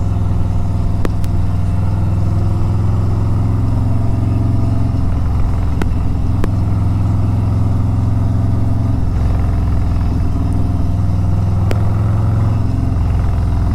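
A Harley-Davidson Road Glide motorcycle rides along with a steady low engine rumble that swells and eases slightly, plus a few sharp clicks, close and continuous with no talk.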